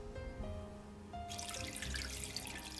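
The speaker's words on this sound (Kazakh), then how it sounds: "Үстіне су құйып, салқын су болсын" Cold water runs and splashes as it is poured over chicken marinating with pepper and paprika for homemade crispy fried chicken, a soft trickle that turns into a fuller, brighter gush partway through, close by and alone.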